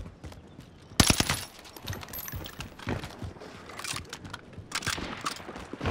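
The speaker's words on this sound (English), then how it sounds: "Look, yeah, they shooting at me." Gunfire in the Call of Duty Warzone video game, a sharp loud burst near the start followed by scattered shots and impacts over steady game noise, with no talk.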